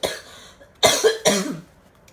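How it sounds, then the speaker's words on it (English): A person coughs twice in quick, harsh bursts close to the microphone during a Harry Potter book showing, with quiet before and after. "Excuse the coughing."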